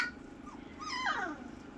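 Faint, thin whimpering from 3-week-old miniature Bordoodle puppies, a soft rising-and-falling whine near the end with a quiet background hum.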